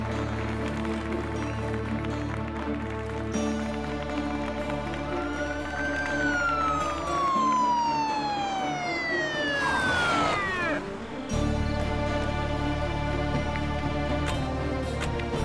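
A police car siren wails in rising and falling sweeps, growing louder as it approaches and then dropping in pitch as it passes, over a steady background hum in a street scene from a drama series.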